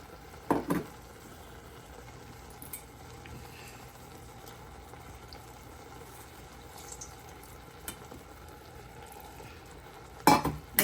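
Tamarind water is stirred into frying onion sambal in the Jaffna style: a quiet, low bubbling simmer with sharp spoon clatters against the pan at the start and again near the end.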